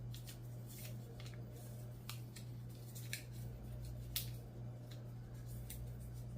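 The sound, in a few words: paper being folded accordion-style for origami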